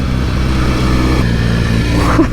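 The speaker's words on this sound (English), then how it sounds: "Life is good on a 1968 Norton Commando." A 1968 Norton Commando 750 classic motorcycle being ridden during its run-in period gives a loud, close, steady engine drone with a slight lift in revs near the end.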